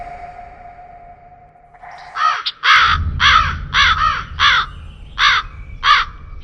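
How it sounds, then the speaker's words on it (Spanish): Loud, harsh crow caws repeat in a quick series of about eight calls, preceded by a faint whistle-like tone and a soft rustle. "Un cuervo salió volando, causándome un gran susto."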